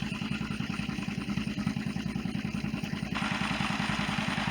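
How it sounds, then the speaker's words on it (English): A 1942 John Deere Model B two-cylinder tractor mowing hay, its engine popping in a fast, even chugging beat that stays close and loud throughout, with a slight rise in intensity near the end. "We're mowing with a 1942 model B John Deere today."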